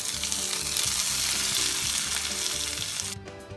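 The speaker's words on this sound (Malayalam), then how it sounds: "കടുക് പൊട്ടിക്കഴിഞ്ഞിട്ടുണ്ട്. ഇനി തീ ഓഫ് ചെയ്ത് ഇത് പുളിശ്ശേരിയിലേക്ക് ചേർക്കാം." Mustard seeds sizzle and crackle in hot oil for a tempering meant for Kasaragod-style red spinach pulisseri, a loud, steady hiss that drops off near the end, with soft music in the background.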